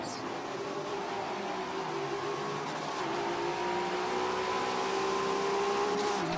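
Race car engine in a racing sim at Hockenheim, driven on manual with clutch, revs steadily and loudly throughout with a continuous, buzzy engine drone and shifting pitch.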